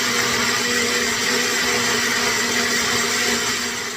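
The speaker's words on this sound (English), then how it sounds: "I'm just gonna take this to the blender and blend this up" A blender runs steadily, whirring an onion mixture until smooth, loud and close with a constant motor hum throughout and no voices.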